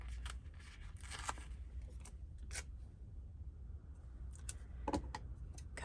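Scissors snip stickers from a Happy Planner sticker book, a few faint, quick clicking cuts close by over a low steady hum, with no talking.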